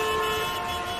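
A vehicle horn sounds in a traffic jam, a sustained, fairly loud honk over a low hum of traffic.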